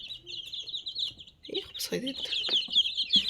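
Young chicks, including a white-headed one, peep in a continuous high-pitched chorus close by, with faint low murmuring and handling noises underneath.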